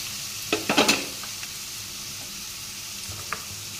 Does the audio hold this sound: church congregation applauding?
no